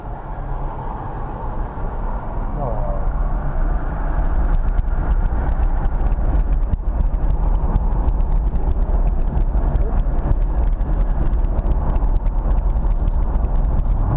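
A car's engine drones steadily and loudly on the AMP race track, with constant rumble and wind roar as it drives through the circuit.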